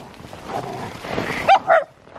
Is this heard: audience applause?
no